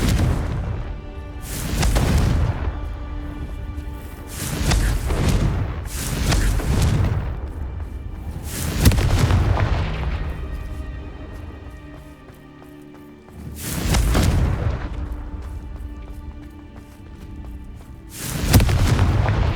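Repeated Confringo fire spell blasts in Hogwarts Legacy, about six or seven loud, deep booming explosions with crackling decay, spaced a few seconds apart over a low continuous game ambience, with no talk.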